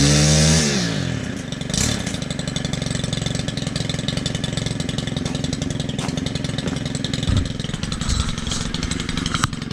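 A petrol line trimmer (strimmer) engine, one that has seized or won't spin its head, runs steadily close by for the whole stretch after a sharp start, a buzzing two-stroke drone with a slight rev near the beginning and no talking.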